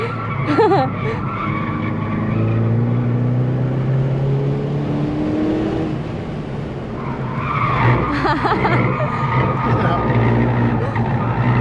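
A front-wheel drive car drifting on a hilly race track, tires squealing and skidding loudly over a steady engine drone, with voices talking briefly in the car.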